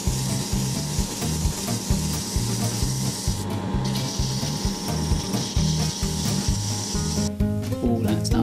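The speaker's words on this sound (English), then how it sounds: "now I'll sand it" A handmade wooden pencil is sanded in steady back-and-forth strokes, a rhythmic rasping scrape repeating close up, with a brief pause midway and no speech.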